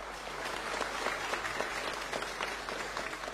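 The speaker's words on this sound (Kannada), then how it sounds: "ಅದಕ್ಕೆ ಬರಬೇಕು ಜೋರಾದ ಚಪ್ಪಾಳೆ" An audience applauding at a healthcare awards ceremony honouring medical staff: continuous dense clapping from a large crowd, steady and moderately loud throughout, with no voices on top.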